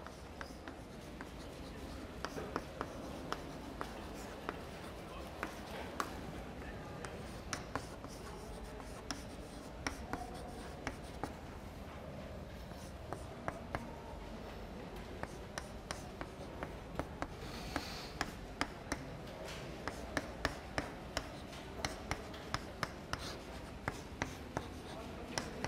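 An equation is written by hand, with steady scratchy writing strokes and small taps running throughout over a constant background hiss, close and fairly quiet.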